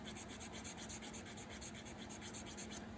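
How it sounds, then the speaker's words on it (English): Fine sanding of flat plastic parts from a Tamiya M2A2 model kit, a quiet, close, rhythmic rasping with quick regular back-and-forth strokes and no talking. "they're nice big flat surfaces that lend themselves to being sanded down easily."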